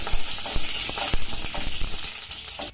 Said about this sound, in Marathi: ही फोडणी आपल्याला चांगली मिक्स करून घ्यायची आहे